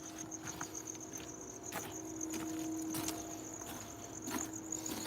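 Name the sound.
crickets chirping at night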